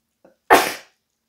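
A single sharp sneeze bursts out close and loud after a faint intake of breath, then quickly fades into silence.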